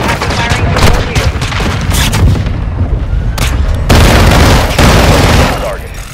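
Loud, dense gunfire and booming explosions fill a shooter video game battle, with continuous rapid shots and heavy blasts close up, and game voices calling out over the din.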